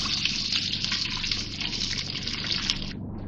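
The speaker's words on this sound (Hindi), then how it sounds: "अब ये राइस शामिल कर रही हूँ इसमें मैं।" Rice soaked for half an hour pours into a cooking pot for dal chawal, making a loud, continuous watery gush close by for about three seconds before it abruptly stops.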